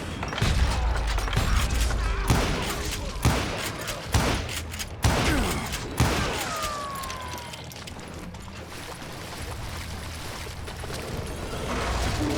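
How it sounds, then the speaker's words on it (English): Gunfire from the Call of Juarez Gunslinger video game: a rapid fusillade of loud shots and ricochets in the opening seconds, with some whizzing bullets, then the firing eases into a quieter rumbling background. "a fusillade of bullets come raining down from on high"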